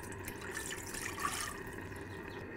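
Water poured into a pot or bowl as the first ingredient of a homemade BBQ sauce for spare ribs, a soft, steady trickling and splashing, faint and close, with no voices.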